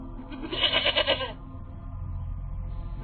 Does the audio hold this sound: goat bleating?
yes